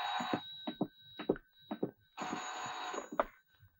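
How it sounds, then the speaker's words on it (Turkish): A telephone rings in short repeated bursts, a brief trill pattern followed by a longer ring, clear and alone indoors. "Oya telefon etti Ali."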